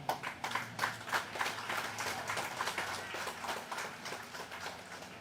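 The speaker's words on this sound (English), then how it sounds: "And I want us to applaud them" Applause from an audience at the commissioning ceremony for a new secondary school in Mabaruma, a steady wash of many hands clapping for several seconds with no voices over it.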